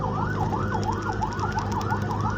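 An ambulance siren wails in a rapid, repeating rise-and-fall over a dense low rumble of engines in a traffic jam in Cimahi, Indonesia, loud and fairly close.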